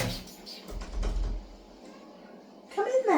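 A conservatory door being opened for a cat gives a low sliding rumble and creak that fades into quiet, and a brief voice or cry comes in near the end.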